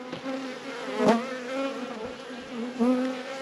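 Honey bees hum with a steady, close buzz inside an open hive during an inspection, the drone swelling briefly as individual bees pass near, with no voices.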